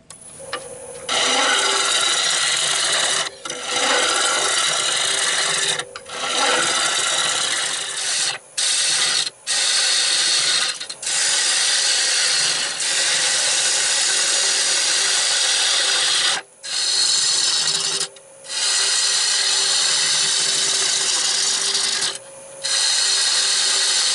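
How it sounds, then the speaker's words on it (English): A bowl gouge makes pull cuts on a warped wooden clock blank spinning on a lathe, producing a loud, continuous rough scraping and hissing cut that stops briefly several times before resuming. "I'm just using pull cuts with the wing of the bowl gouge just to true it up"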